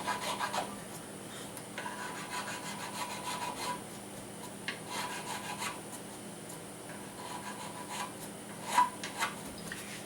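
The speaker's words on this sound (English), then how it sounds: "buff this nut down" An over-slotted guitar nut is buffed down by hand, making repeated dry rubbing and rasping strokes in a steady back-and-forth rhythm, close and moderately quiet.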